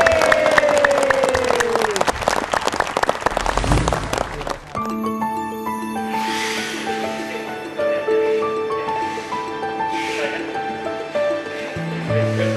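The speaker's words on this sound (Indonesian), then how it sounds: "Kasih tepuk tangan dulu." Loud clapping from a crowd fills the opening seconds, then gives way to bright music with sustained tones.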